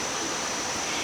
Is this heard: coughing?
no